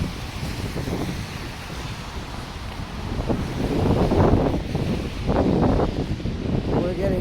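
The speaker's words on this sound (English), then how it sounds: "That's where the wind's coming from." Wind gusting along a downtown city street between buildings, a steady broadband rush that swells louder midway, with no talking.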